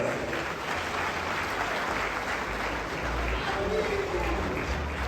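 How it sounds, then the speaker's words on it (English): An audience applauds at the official launch of a one-student-one-laptop project, a steady crowd-wide clapping sustained from start to finish. "Ladies and gentlemen, round of applause"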